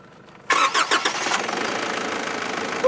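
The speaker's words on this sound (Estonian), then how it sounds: "auto tahab nagu käivitada, tahab põlema minna." A car engine cranks a few times and catches, then settles into a steady loud idle, recorded close during a rough overland trip through Siberia toward Mongolia.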